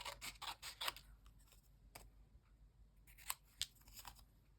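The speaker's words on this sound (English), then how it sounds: "cut round." Scissors cut round paper for a stamped envelope pocket in a junk journal, giving several quick close snips, then sparse clicks, and a couple of louder snips near the end, all quiet.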